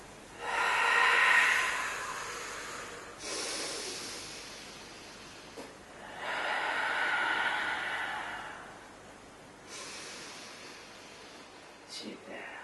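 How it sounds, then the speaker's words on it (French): Exhalations during a prenatal Pilates exercise in the second trimester: several long, breathy outward breaths, fairly close and moderately loud, each lasting a couple of seconds with short pauses between, and no talk over them. "Tu souffles en montant."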